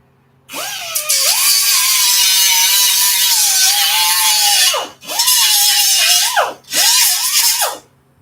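A rotary power tool, probably an angle grinder, scuffs shiny metal before welding, three loud, sustained whining runs with a sharp pitch swoop each time it spins up and down.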